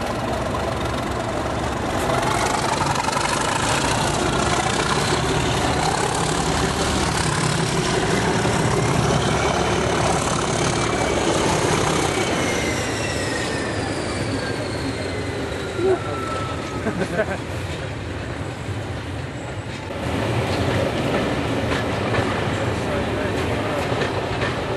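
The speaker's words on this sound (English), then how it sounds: "Here the charter is seen departing EastLeague with 37069 and 602 in charge." Charter train hauled by diesel locomotives 37069 and 602 departing, a loud steady diesel engine drone with rumbling wheels and squealing rails building and fading over a long passage, no voices.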